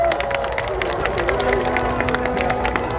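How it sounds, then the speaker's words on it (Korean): Crowd of supporters cheering and applauding at a presidential candidate's finale campaign rally at Seoul City Hall, a dense continuous roar of claps and shouts with a loudspeaker tone running through it. "중앙당 유세팀께 다시 한번 큰 박수 부탁드리겠습니다"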